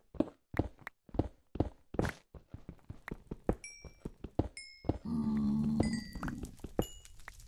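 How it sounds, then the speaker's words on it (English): Minecraft game sounds: a run of sharp clicking and thudding hits, then a brief soft muffled crunch like a wool block breaking, with light chimes mixed in, all fairly quiet. "that's the sound of wool being destroyed"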